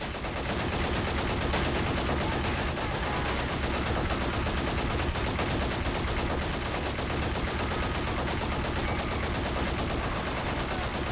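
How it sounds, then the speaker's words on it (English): Machine guns fire nonstop in a war video game bridge assault, dense loud bursts overlapping into a continuous rattling barrage with no pauses. "This machine gun gunning down as many people as possible."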